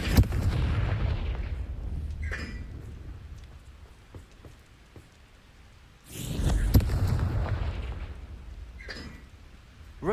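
Two big booming blasts from the Confringo fire spell in Hogwarts Legacy, each a heavy rumbling explosion that slowly fades, separated by a quieter stretch with crackling debris and small game effects.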